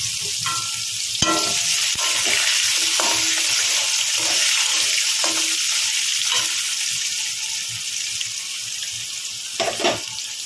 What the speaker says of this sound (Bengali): এবার আলুটা প্রথমে ভেজে নেব। সিম করা ছিল, গ্যাসটা বাড়িয়ে দিলাম।